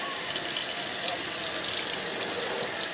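Tap water runs steadily through a Brita filter, a continuous close hiss and splash with no break, heard alone.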